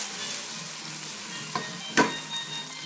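Chopped peppers frying in a pan while cooking lentils, a steady soft sizzle throughout with a couple of brief clinks and stirring scrapes, close by and with no talking.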